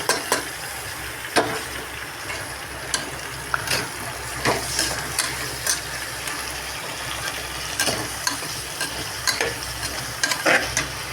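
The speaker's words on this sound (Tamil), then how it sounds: "இப்போ தக்காளி போடுறேன்" Tomatoes sautéing with onion and green chilli in a pan, a dense crackling sizzle with frequent clicking spoon strokes and scrapes throughout, near and steady, no one talking.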